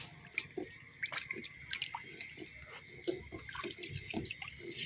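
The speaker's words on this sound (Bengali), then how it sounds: "এবার জল দিয়ে জামগুলো খুব সুন্দর করে ধুয়ে নেব।" Java plums (jamun) get washed with water in a soft, close trickle of splashes, drips and light gurgles that runs continuously at a low level.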